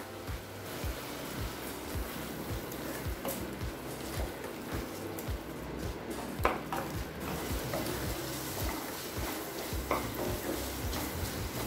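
Tomato sautés in a pan for capsicum gravy, a faint continuous sizzle under repeated soft rhythmic stirring scrapes and a few light utensil taps, fairly quiet and close; no talk.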